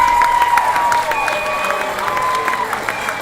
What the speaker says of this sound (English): you're about to hear the crowd as our Gators wrap up their in and out session